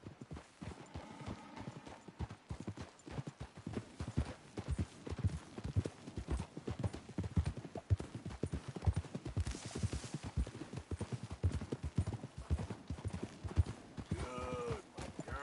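Horses clip-clop in Red Dead Redemption 2, a steady, rhythmic run of hoofbeats on the ground that carries on throughout at moderate volume, with faint background sounds from the game.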